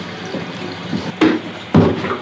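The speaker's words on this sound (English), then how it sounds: "I'm gonna fill it with distilled water." Distilled water is poured into a film developing tank, giving a few short splashing gurgles and trickles close up, the last two bursts louder, in a quiet room.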